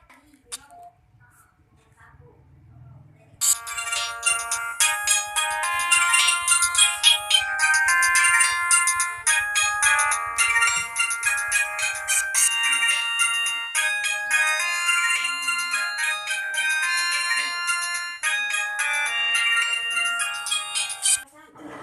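A mobile phone rings with a bright, looping melodic ringtone that starts after a few seconds of near silence and plays loudly and continuously to the end, with faint sounds in the background.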